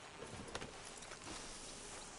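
Horse hooves clip-clop along in Red Dead Redemption 2, a short run of soft steady steps over a busy game ambience, with no talk.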